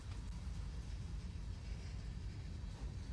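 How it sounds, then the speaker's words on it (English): Train running under light power in the Train Sim World game on the Northeast Corridor near New York, a steady low rumbling drone with constant track and motor noise throughout, no voices. "Actually put a little bit of power in, just keep the train going."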